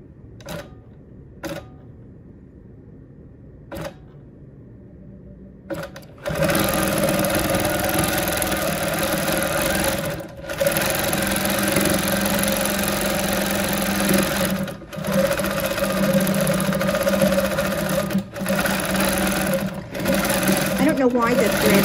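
Home sewing machine running steadily as it stitches a quilted row, a loud continuous mechanical whir that starts after a few quiet clicks and keeps going with brief pauses.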